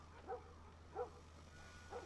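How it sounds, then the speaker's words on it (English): A dog in the video game The Last of Us Part 1, three short, muffled barks spaced evenly about a second apart, faint and distant over a low steady hum. "Dog's freaking out."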